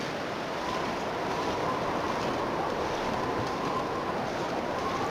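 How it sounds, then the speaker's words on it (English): Steady wind blowing through a snowy outdoor survival setting in The Long Dark, a continuous broadband whoosh that holds an even, fairly loud level throughout with no other sounds. "it is getting windy"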